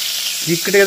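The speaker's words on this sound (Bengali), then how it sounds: "তেলটা পুরোপুরি গরম করে নিয়েছি। এবার বেগুনগুলোকে একটা করে ছাড়বো" Eggplant slices drop into fully heated oil in a small kadai and sizzle at close range, a steady hiss that swells as pieces go in, with a brief voice near the end.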